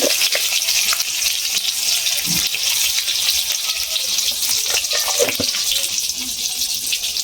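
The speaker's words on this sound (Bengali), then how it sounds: "ভালো করে ভেজে নেব।" A cabbage dish with boiled potatoes, tomatoes, salt and turmeric frying in a pan, giving a steady, loud hissing sizzle throughout with a few faint clinks.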